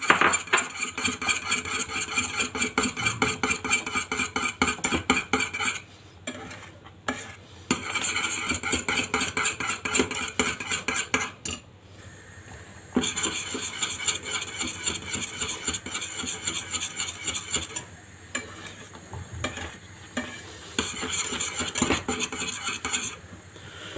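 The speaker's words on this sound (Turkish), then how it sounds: "Yumurta sarısını da içine ilave ettim. Ve hızlıca çırpıyorum." Egg yolk is whisked rapidly into aletria, a Portuguese vermicelli pudding, giving fast rhythmic metallic scraping against the pot in long bursts broken by brief pauses, close and without speech.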